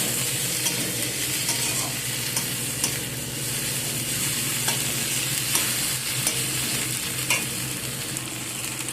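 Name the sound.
frying and stirring tomatoes with ginger and garlic in a pan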